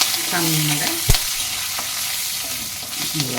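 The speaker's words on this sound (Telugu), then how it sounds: "ఇదిగో కరివేపాకు వేసేసాక వీటిని జాగ్రత్తగా ఇదిగో" Curry leaves sizzle steadily in hot oil during tempering for a carrot, chana dal and coconut curry, with a sharp utensil knock near the middle and light stirring throughout.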